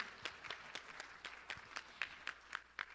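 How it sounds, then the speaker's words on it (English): Scattered clapping from a symposium audience greeting the president of an ophthalmology society, with sharp separate claps in an uneven rhythm, fairly faint and sparse, as from a small or distant crowd, with no talking. "A big round of applause for her, please."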